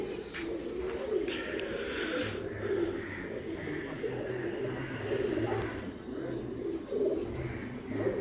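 Breeder pigeons from Kasur coo in soft, low, repeated phrases close by, with a steady murmur of other birds behind and no voices.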